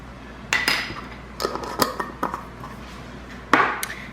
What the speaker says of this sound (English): Gonna give this a little stir.